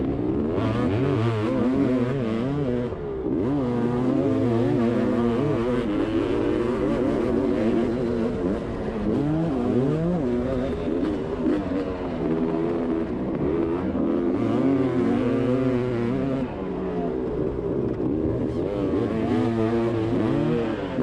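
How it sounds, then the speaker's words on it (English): Two big 500cc two-stroke dirt bikes racing around a track, engines loud and close, revving and buzzing continuously with rising and falling pitch through gear changes and corners. "enjoy Tom ripping on board these two big 500 two-strokes"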